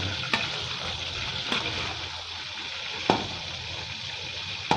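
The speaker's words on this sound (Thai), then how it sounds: "คอยขยับคอยคนไปเรื่อยๆนะครับ จนหมูเราสุกนะครับ" Marinated pork frying in a pan for Thai fried garlic pork with fresh chili, a steady close sizzle broken by a few sharp utensil taps as it is stirred, no voices.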